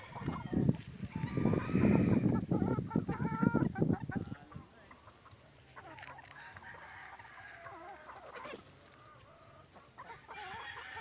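Hungry gamefowl chickens on a game farm cluck loudly and busily for the first few seconds, then settle into softer, scattered fowl calls with an occasional crow in the background.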